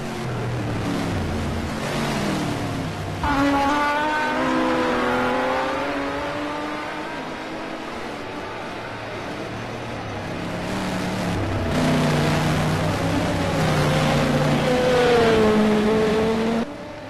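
Race cars roar around Sebring in a 12-hour endurance event in a racing video game, engines rising and falling in pitch through gear changes as they accelerate steadily and close in, with no voices.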